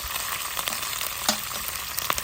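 Green chillies sizzle steadily in a hot pan, a continuous close frying crackle with a few sharper pops and stirring clicks, no voices.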